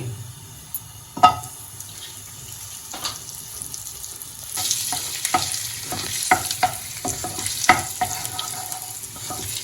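Butter melts with oil in a hot pan for egg burji, starting with a soft crackle and a few sharp clicks, then swelling into a fuller, brighter sizzle with scraping stirs partway through.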